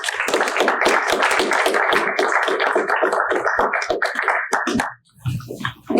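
Audience at a botanical specimen collection talk applauding in a dense, close burst of clapping that continues for about five seconds, then breaks off as a voice begins speaking.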